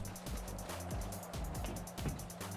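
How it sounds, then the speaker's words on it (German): A tractor engine in the video game GTA V drones with a low rhythmic chug and repeating pitch sweeps, steady and close throughout the short stretch with no talk over it. "So, den Traktor fahren."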